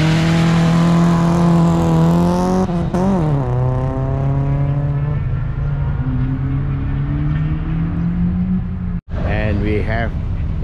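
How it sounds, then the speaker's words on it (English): A 1970s race car accelerates hard at an Australian sprint race, a loud, close engine roar climbing through gears, with a brief cut and a second burst of revving at the end. "And here we go, the third car is going."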